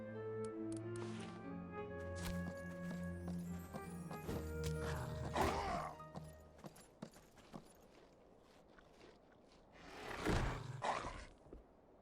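Horse hooves clip-clop and a horse neighs loudly in a video game, over a backdrop of sustained musical tones; the hoofbeats come in irregular bursts and a second whinny rises near the end.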